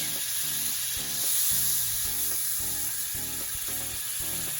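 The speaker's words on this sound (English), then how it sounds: "Now I'm going to start sauteing down my onions and peppers and the mixed veg." Onions, peppers and mixed vegetables sauté in a pan, a steady close sizzle with stirring, no talking.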